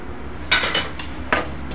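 Semolina scraped out of a pan onto a plate for crispy puris, heard as a few short metallic scrapes and clinks of a spoon against cookware, close and moderately loud over a quiet kitchen background.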